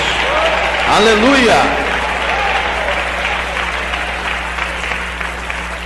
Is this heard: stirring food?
no